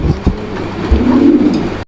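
Fancy pigeons at a sale coo in low, throaty murmurs close by, a rounded call rising near the middle over a steady room hum before a sudden cut at the end.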